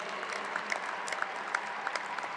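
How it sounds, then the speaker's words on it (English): Graduation audience in a large hall claps steadily for graduating high school seniors, a dense and even wash of applause that holds at a moderate level throughout with no voices on top. "Please applaud these students for their involvement in CTE."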